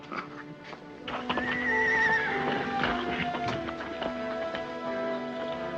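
Horses at a stable neigh loudly, with one long rising and falling whinny, while hooves clip-clop steadily underneath, close and busy throughout with no talk.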